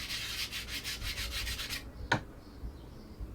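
A steel chisel is rubbed back and forth in steady strokes on a coarse grit sharpening plate for deburring, a close rhythmic rasping that stops abruptly, followed by one sharp click.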